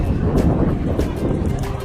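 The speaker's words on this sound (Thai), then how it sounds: "ลมแรงมาก" Strong wind buffets the microphone, a steady loud broadband rush with gusty swells throughout, heard outdoors with no talk.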